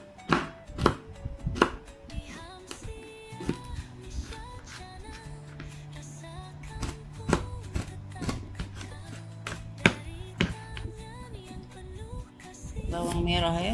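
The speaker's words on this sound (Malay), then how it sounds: "Okey, kita cincang bawang putih ni ya." A knife chops garlic on a cutting board for sardine and egg spring roll filling, sharp rapid knocks in uneven bursts, close and clear, with a faint tonal background underneath.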